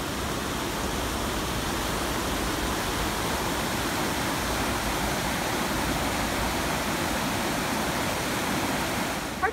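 Nine Mile Creek water rushes steadily, a constant broad hiss and gurgle close by with no pauses, loud and even throughout.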